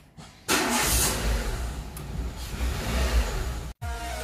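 A car engine fires up after a moment of near silence, settling into a loud, steady running roar close by, with a brief cutout near the end before it carries on.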